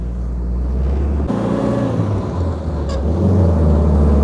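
A WW2-era Jeep engine pulls up a hill under load, a steady close rumbling drone that shifts up in pitch partway through as it accelerates, with no talking.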